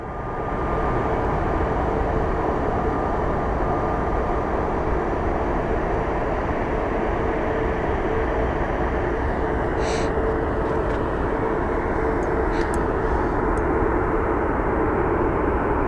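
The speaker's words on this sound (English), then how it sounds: "here comes our Philadelphia bound A321" An Airbus A321 jet airliner bound for Philadelphia at Phoenix Sky Harbor airport, a steady broad engine roar and rumble lasting about sixteen seconds, loud and continuous with no voices over it.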